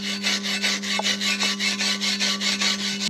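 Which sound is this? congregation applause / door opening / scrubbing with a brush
scrubbing with a brush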